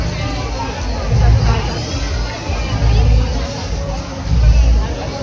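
A dense crowd at a village fair (jatra) with a palanquin procession for the goddess Kunkai Devi murmurs and chatters in a continuous hubbub that swells in waves, with nearby talk on top.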